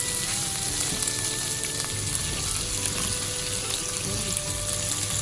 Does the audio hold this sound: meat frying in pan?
yes